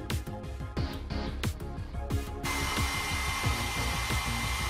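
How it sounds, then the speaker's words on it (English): A hair dryer blows steadily at close range over mud weathering paste on a scale tank model, its whirring drone changing tone partway through as the airflow shifts. "Use the hairdryer often to work faster and quickly gauge the results."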